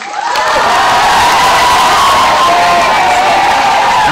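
A loud studio audience cheers and applauds as a singer from the United States is introduced on a Chinese television show, a dense roar of clapping and whoops that holds steady after a quiet start.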